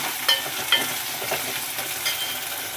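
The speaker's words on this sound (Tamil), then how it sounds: "லைட்டாக உப்பு போட்டு நல்லா அதில் வந்து வதக்கி விட்டுறலாம்." Vegetables sautéing with a light sprinkle of salt in a pan on a home kitchen stove, a soft steady sizzle with a few brief stirring scrapes, moderately quiet, no voices.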